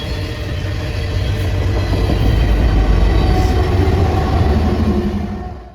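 A BNSF train rolls past on the Fort Scott Subdivision near Spring Hill, a loud, steady, close rumble of wheels and cars that swells and then eases off at the end.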